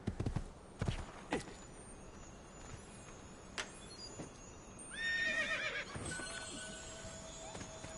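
A horse in the Assassin's Creed 2 video game gives a loud whinny, with scattered hoof clops and thuds before it, set against a quiet game ambience.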